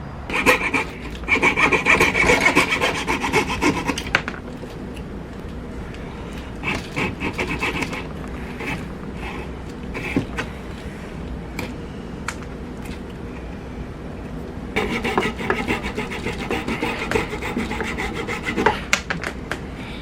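A wooden anglerfish fishing lure is being cut by hand, with rough, rhythmic rasping strokes. They are loud for the first few seconds, quieter through the middle, then strong again toward the end, with no talking.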